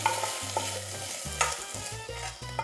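Chicken cubes browning in oil in a pan for Peruvian arroz chaufa, stirred with repeated scraping strokes over a continuous close sizzle, with no talk.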